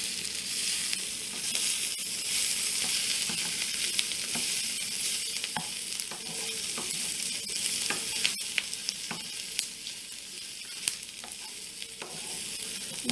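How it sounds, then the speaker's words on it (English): Daikon radish kimchi and onions sauté in a pan with a continuous bright sizzle up close. Scattered clicks and scrapes from stirring break through now and then, and no voices are heard. "I'm sauteing it with some onions."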